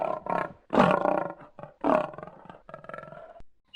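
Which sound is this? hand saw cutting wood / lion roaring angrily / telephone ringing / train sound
lion roaring angrily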